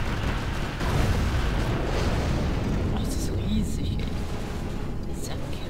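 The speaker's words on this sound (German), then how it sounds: "Die Welt ist explodiert." A sustained, rumbling explosion in the game Command & Conquer: Generals roars through the whole stretch, dense and loud, with scattered bursts and crackles layered over a heavy low roar.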